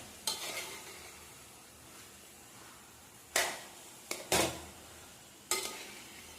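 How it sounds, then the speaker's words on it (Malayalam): A spoon scrapes through cassava and beef in a pan in four or five short, separate strokes, each a brief scratchy burst over a faint, quiet background. "തിരിച്ചും മറിച്ചും എല്ലാം നല്ല രീതിയിൽ മിക്സ് ചെയ്തെടുക്കുക"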